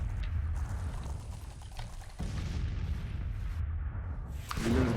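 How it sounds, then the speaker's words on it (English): Artillery bombardment in Grand Tactician Civil War, a rumbling mass of distant booms and muffled cannon fire rolling on in a dense, low roar, with no talk. "Okay, the bombardment has begun."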